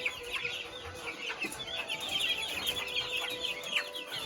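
Ameraucana chickens cluck and chatter steadily in a flock, with soft overlapping calls and occasional sharper squawks over a low background hum.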